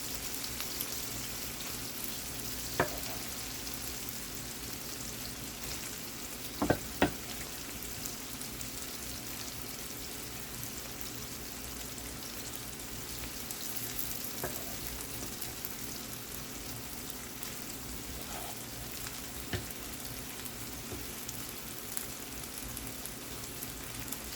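Tomatoes go into a pan where smoked herring is frying, producing a steady soft sizzle throughout with a few faint clicks of utensils and no speech.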